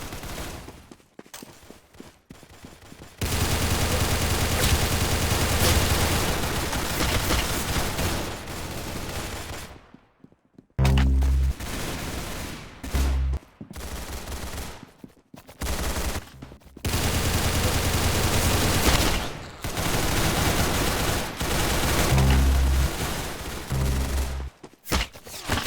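Gunfire in a video game shooter, dense rapid bursts of automatic shots that are loud and sustained, broken by brief pauses and isolated single shots.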